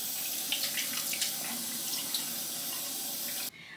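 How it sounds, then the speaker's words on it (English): Water running steadily from a bathroom sink tap while a face is rinsed, with soft splashes and brief spatters over the flow, close up, ending abruptly as the tap is shut off. "I just kind of rinsed my face off"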